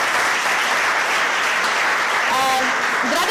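An audience claps loudly and continuously at a talk, the applause filling the room, with a voice briefly heard over it near the end.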